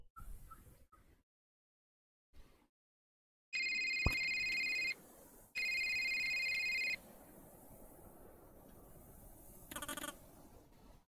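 In the video game A Short Hike, a cell phone rings with two sustained electronic trill bursts, each about one and a half seconds long, clear and close, followed by a quieter ambient game background.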